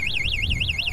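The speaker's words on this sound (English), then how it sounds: "it has this pretty loud alarm" A locked Wing Freedom X e-bike sounds its anti-theft alarm, a loud, piercing electronic whoop that rises and falls in rapid regular cycles and carries on nonstop.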